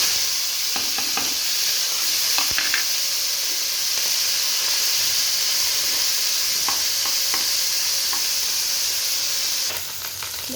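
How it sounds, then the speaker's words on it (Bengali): Small fish frying in hot oil on a griddle give a steady, close hiss of sizzling with occasional crackles and faint clinks, easing slightly near the end, no voices. "তেলটা গরম হয়ে গেছে, মাছ আমি দিয়ে দিই।"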